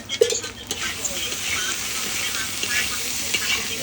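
Spice paste with turmeric, salt and green chillies frying with potatoes in a pan: a continuous moderate sizzle with occasional stirring scrapes and a faint voice in the background.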